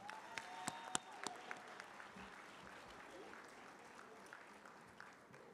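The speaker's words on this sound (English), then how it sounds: "Let's give our drumline one more round of applause." Conference audience at a welcome event applauding a drumline, a soft, distant round of clapping with a few sharp percussive hits near the start, trailing off into room murmur.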